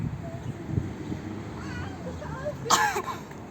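A young girl in a park coughs briefly, one or two short hacks near the end amid playground background noise and faint voices.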